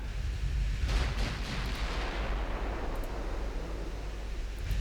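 Heavy naval guns fire in the video game Ultimate Admiral Dreadnoughts during an engagement with a battlecruiser, a dense roaring blast of gunfire and rumbling noise that holds steady and loud throughout with a few sharp cracks.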